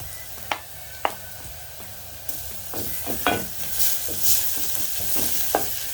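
Leek onions and garlic frying in a pan with a steady close sizzle, broken by a few sharp scrapes and knocks as the mixture is stirred, with no voices.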